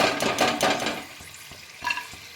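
Chickpeas crackling as they fry in a pan, a busy sizzling crackle that fades into sparse pops with one brief renewed flare, close and moderately loud.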